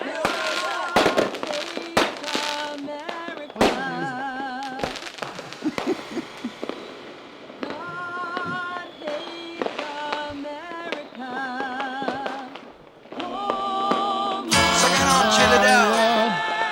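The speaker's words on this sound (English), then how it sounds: "They're dropping the boxes and boxes of fireworks down." Boxes of fireworks are dropped and go off, a jumble of sharp cracks and bangs mixed with whistling and screeching tones, building to a loud, dense burst near the end.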